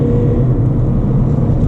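A 2016 Mercedes A200 with a 2-litre diesel accelerates hard in sports mode, giving a loud, steady low engine rumble heard from inside the cabin.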